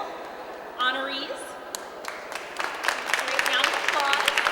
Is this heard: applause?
yes